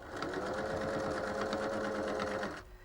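A sewing machine stitches steadily along a fabric edge, sewing over pins set at right angles, with a loud continuous motor hum and rapid needle chatter that stops just before the end.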